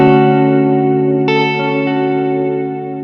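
An electric guitar chord through a Limetone Audio Moonlight reverb pedal set to hall mode rings out loud and sustained, with a second chord struck partway through and a long, lush reverb tail washing over both.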